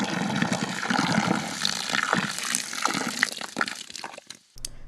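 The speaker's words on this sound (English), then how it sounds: "Now we're gonna pour in our sauce into the spaghetti." Alfredo sauce poured from a container into cooked spaghetti in a home kitchen, a steady liquid gush and slop running for several seconds before tapering off, close and fairly loud with no talking.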